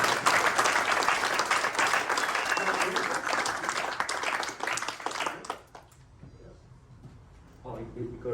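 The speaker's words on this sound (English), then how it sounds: "a bit of encouragement, clapping of hands for the last item" An audience at a TeamViewer corporate event in Perth claps their hands in encouragement, a loud dense burst of applause for about five seconds that cuts off abruptly into quieter room sound with faint voices.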